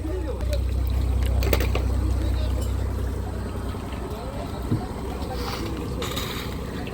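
A large fishing boat pulling out of a harbor near Bakkhali, a low steady engine rumble with wind buffeting the microphone, close by, while a person talks over it.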